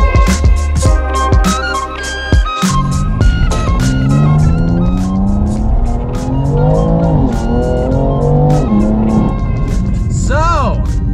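A BMW M2 engine and exhaust rev and roar loudly up close with rising and falling pitch sweeps, rapid pops and a brief cut-off early on.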